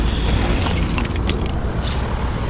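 A bunch of property keys jangles close up with bright metallic clinks, brief shakes scattered over a low car-engine hum.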